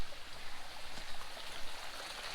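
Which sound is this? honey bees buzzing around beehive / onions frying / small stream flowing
small stream flowing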